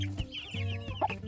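Chickens cluck in short bursts near a farm flock lot with young roosters, a few separate calls over a steady low hum, with no talking.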